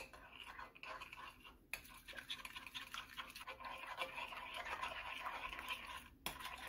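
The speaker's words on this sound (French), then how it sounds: "Maintenant, je vais mélanger avec la cuillère." A spoon stirs potatoes and cauliflower with spices in a pan, giving soft, quiet scraping and clinking strokes that repeat steadily throughout, with no talking.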